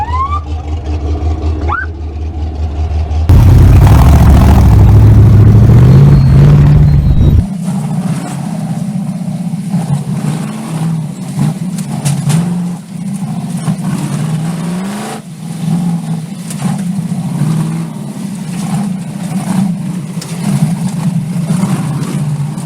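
American V8 rock-crawling off-road buggy engine, a loud roaring rev burst up close followed by a steady lower rumbling drone that rises and falls as it works, with no talk.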